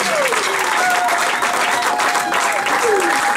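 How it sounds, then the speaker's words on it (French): A church congregation at a Sunday praise service applauds and cheers loudly and continuously, a dense wash of clapping and voices with a few whistles rising over it. "Acclamons très fort pour la gloire du Seigneur."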